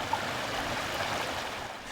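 Little Sugar Creek in Mecklenburg County flows through an urban area, a steady, even rush and trickle of water that is moderately loud and close, without any voices.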